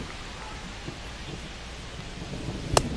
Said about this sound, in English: We'll see how well the field holds up with the way the rain is coming down.